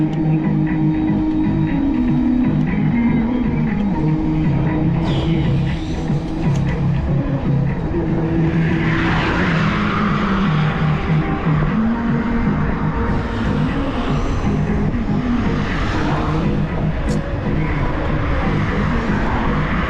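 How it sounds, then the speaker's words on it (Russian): Cars passing steadily on a road in Crimea, a continuous loud rush of engine and tire noise with swells as vehicles go by, heard up close with no one talking. "машины все едут и едут"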